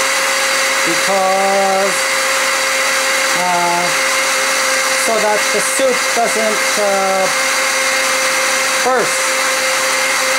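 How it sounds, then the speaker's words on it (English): A blender whirs steadily as it purées hot squash soup with dill, a towel draped over the lid, running continuously close up while a person talks over it. "so we're blending the blender now"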